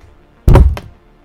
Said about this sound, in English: banged my hand really hard